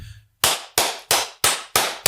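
Sharp, close hand claps ring out in a quick, even run of six, each one loud and dry with a short decay, to sync a podcast recording.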